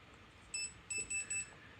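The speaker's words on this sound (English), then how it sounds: "that beeping means that it's done recording" An Insta360 X4 camera gives four short electronic beeps as recording stops: one single tone, a pause, then three quick beeps in a row, close and clean in a quiet space.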